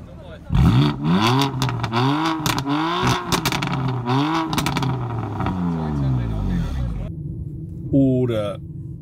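A car engine with a valved flap exhaust revs repeatedly in loud rising and falling bursts, the exhaust note climbing and dropping several times before a final short rev.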